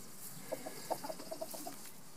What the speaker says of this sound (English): we've got a broody hen in there at the moment